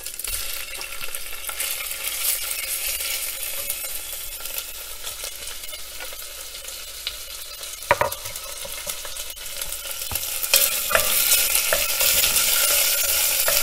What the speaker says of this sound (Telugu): సో నేను ఫస్ట్ చికెన్ని కుక్ చేసేస్తున్నాను